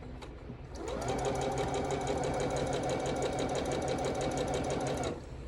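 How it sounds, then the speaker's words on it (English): A sewing machine stitches a quilt block corner to corner with right sides together, running steadily and loud for about four seconds after a short start, its rapid needle rhythm continuous and close. "So you do that to get your corner right sides together and sew"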